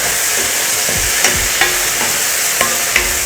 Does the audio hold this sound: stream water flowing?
no